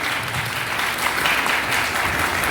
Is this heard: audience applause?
yes